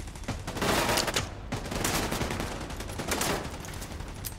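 A deployed turret fires at enemies in The Division 2, unleashing dense, continuous bursts of rapid gunfire with sharp cracks throughout, loud and close.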